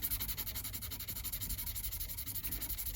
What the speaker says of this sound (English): I'll just go lighter and lighter for a minute with some sandpaper grades